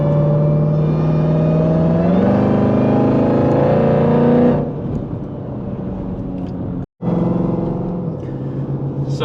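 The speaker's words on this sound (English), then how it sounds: "this supercharger does whine pretty good" A supercharged 1000hp Jeep Trackhawk accelerates hard with a loud, rising engine roar and supercharger whine, then drops off to a lower rumble after about four seconds, with a brief cutout near the end.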